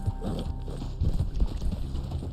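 Horse hooves clip-clop in the video game Red Dead Online, a brief run of low, close hoofbeats alone against faint game ambience.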